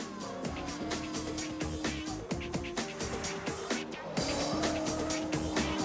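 Renault R5 Turbo rally car with a 160-horsepower turbocharged engine, revving hard through rapid gear changes, loud and close, with a sharp surge of engine noise near the end.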